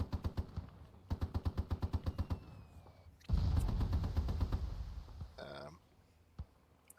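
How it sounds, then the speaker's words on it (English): Gunfire in the World War II video game Gates of Hell Ostfront on farmland, a rapid even burst of machine-gun shots, then a louder booming blast with rumbling decay and a few scattered later reports. "Here's shots coming off from the right."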